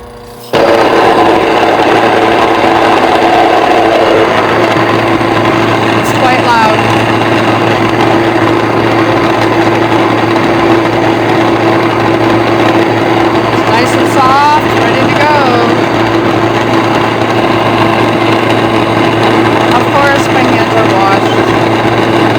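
Electric mill grinding ingredients for a pumpkin roll, a loud steady motorized whir starting abruptly and running continuously for over twenty seconds with faint chatter beneath.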